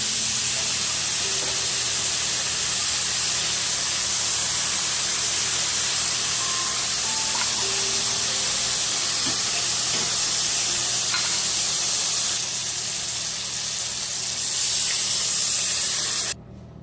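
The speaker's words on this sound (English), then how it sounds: "now we're going to add in 4 cups of the warm stock" Warm stock poured into a pan of rice coated in olive oil for asparagus saffron risotto, a loud steady hiss and spray that runs for most of the stretch before it drops off abruptly near the end.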